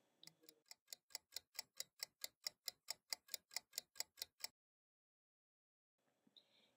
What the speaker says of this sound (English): If you prefer a ticking sound,